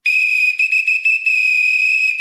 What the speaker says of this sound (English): Give him a little bit of that whistle